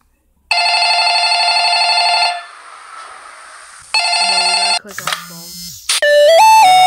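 A video game telephone rings loudly in bursts, with a long electronic ring, a pause, then a second shorter ring, followed by beeping game sound effects.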